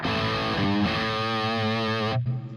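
Electric guitar played through the drive channel of a Garland Tyranos tube amp head, a thick distorted chord ringing loud and sustained before cutting off abruptly near the end.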